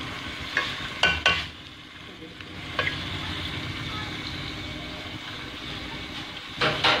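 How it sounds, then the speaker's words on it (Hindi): Ginger garlic paste sizzles and frying sounds rise in a pot of biryani base as it is stirred, with a few scraping clatters over a steady low sizzle. "इसमें अदरक लहसुन का पेस्ट जाएगा"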